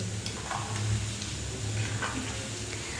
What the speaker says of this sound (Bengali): বন্ধুরা চালগুলো ভাজতে কিন্তু খুব একটা বেশি সময় লাগবে না